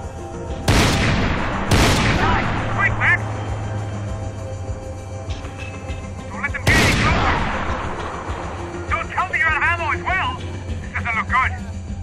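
Max Payne 3 gunfight: loud, close bursts of gunfire with booming reports and rapid shots echo throughout, while shouting voices come through between the volleys.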